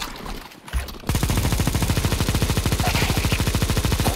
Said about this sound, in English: Start pre-firing now.